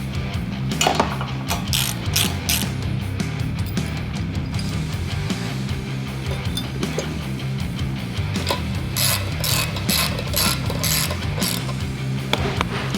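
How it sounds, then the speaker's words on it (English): Rapid, loud ratcheting clicks from a ratchet tightening bolts on a Rough Country Contour drop step bracket on a Jeep Wrangler JL, continuous back-and-forth strokes close up with a few pauses between runs. "then I'll cinch them down with the ratchet"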